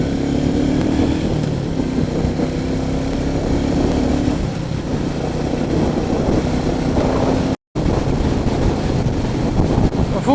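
A Royal Enfield Meteor 350 motorcycle hums steadily on a wet road, its engine drone buried under heavy, constant wind buffeting across the microphone, with a brief dropout near the end.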